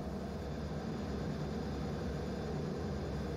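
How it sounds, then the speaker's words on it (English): An FA-18E jet engine roaring on an aircraft carrier deck, a steady, loud, broadband rush with a heavy low rumble that holds constant throughout, with no voices. "You can see that jet is an FA-18 Echo with an AIM-9 on the left wingtip store"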